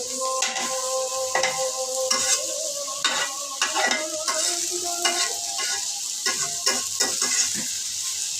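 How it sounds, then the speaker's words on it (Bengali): Onion frying in a pan, a close, steady sizzle broken by frequent clattering stir strokes, with no voices. "আমি পেঁয়াজটা ভেজে নিলাম।"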